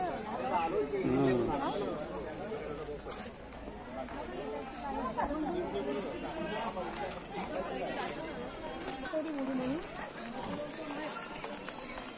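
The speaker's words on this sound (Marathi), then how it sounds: "ट्रेनची तिकीट काढायला गर्दी बघा." A busy crowd chatters around a train station ticket counter in Matheran, a steady babble of overlapping voices filling the space throughout, with some footsteps and movement mixed in.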